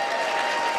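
An audience in a dinner banquet hall applauds the Sisters of St. Joseph, a steady, dense wash of clapping held at an even level through the short moment.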